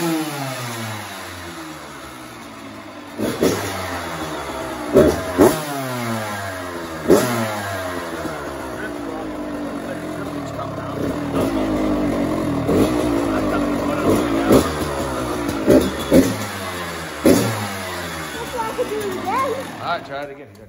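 A Kawasaki KX85 dirt bike kicks into life and revs hard in repeated rising bursts, its small two-stroke engine snapping up and dropping back between blips, loud and close, with people talking alongside.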